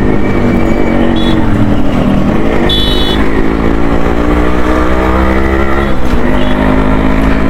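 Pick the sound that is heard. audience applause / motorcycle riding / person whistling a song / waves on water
motorcycle riding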